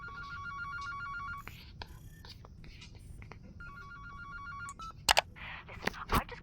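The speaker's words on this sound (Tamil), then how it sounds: "ஃபோன் வர வருது" A telephone rings in the horror video game Baby in Yellow, two bursts of steady electronic trilling separated by a quiet pause over a low ambient drone, followed by a few sharp clicks and knocks.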